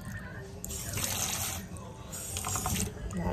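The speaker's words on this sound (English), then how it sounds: "Put just a little bit of water up in there." Water from a tap pours steadily into a cooking pot in a home kitchen, a continuous close splashing rush lasting a few seconds.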